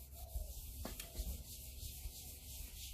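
Wet abrasive rubbing down a painted surface before spray painting: a faint, steady scrubbing hiss with soft rhythmic strokes, close and quiet.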